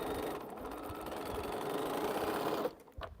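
A home sewing machine runs steadily, stitching two quilt rows together with a continuous mechanical whir, then slows and stops near the end with a few faint handling clicks.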